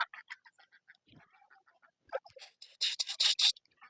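A duck quacks in a quick series of nasal calls that start sparse and faint, then build into loud, closely spaced honks toward the end, close by and alone.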